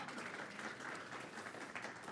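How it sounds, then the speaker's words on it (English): Audience applause rings out for a volunteer coming up onstage, a dense steady patter of many hands clapping close by for the full two seconds. "So would you give Jeremy a round of applause as he comes up?"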